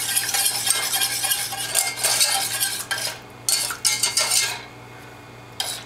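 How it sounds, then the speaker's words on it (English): A whisk scrapes and clinks rapidly against a pan while cornstarch and milk for nacho cheese sauce are mixed over medium heat, a close, busy metallic rattle with brief pauses. "1/2 cup of milk, and we're gonna whisk this all together"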